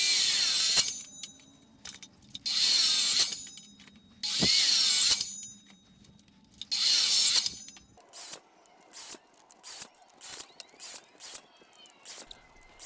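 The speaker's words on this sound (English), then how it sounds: "now we can begin making 45-degree angle cuts" A power tool makes repeated 45-degree angle cuts in material clamped for a barbell rack, with four long loud whining cuts followed by a quick series of shorter rhythmic bursts, close and with no talking.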